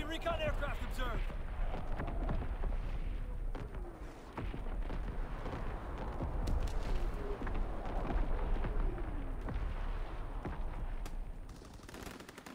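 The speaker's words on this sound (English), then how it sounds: "Firing primary battery." Primary battery artillery fire from a warship in a video game, made up of heavy booming salvos and rumbling blasts over a continuous low din, with a voice speaking through parts of it.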